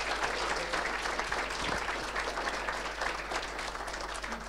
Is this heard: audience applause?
yes